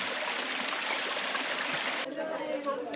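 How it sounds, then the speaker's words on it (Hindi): Cold spring water flowing steadily from a spring while bottles are filled at a camp in the cold, a continuous close hiss and splash of running water that shifts in tone near the end. "स्प्रिंग वाटर भरने की कोशिश, सब लोग लाइन में लगे हैं।"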